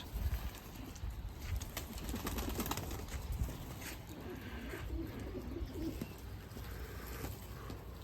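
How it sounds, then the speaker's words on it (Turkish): Soft, low pigeon cooing rises and falls in the background against steady outdoor noise, with faint patter of light rain. "Ala güvercinimiz."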